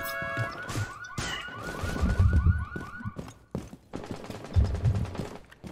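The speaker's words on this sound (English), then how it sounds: "I hear a lot of gunfire." Rapid bursts of automatic gunfire and shots from a Rainbow Six Siege match, with an alarm-like wailing tone running through the first half; the firing comes in repeated loud clusters and is louder and denser toward the end.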